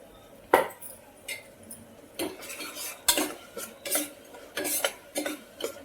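Ginger garlic paste frying in a pan for mutton haleem, with a utensil scraping and clinking against the metal in irregular strokes over a faint sizzle, close and fairly quiet.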